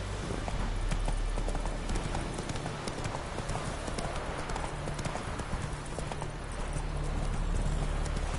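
In The Witcher 3, Roach's hooves clip-clop in a brisk, even rhythm, close and steady for the whole stretch, with faint voices in the background.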